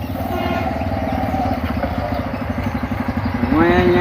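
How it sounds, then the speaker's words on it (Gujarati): A motorcycle idles in the middle of a road with a steady, low rumble that runs the whole time, and it rises a little near the end. "રસ્તા વચ્ચે બાઇક બંધ કર"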